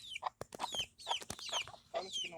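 Chickens clucking in a backyard coop, a close run of quick, choppy clucks and squawks in short bursts with brief gaps between them.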